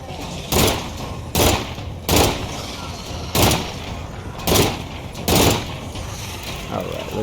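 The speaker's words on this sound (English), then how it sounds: "We're gonna shoot this gun out." Gunfire in a survival horror video game: six loud, evenly spaced blasts ring out over a steady ambient hum, each a sharp broadband burst with a short tail.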